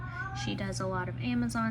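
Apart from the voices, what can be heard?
cat meowing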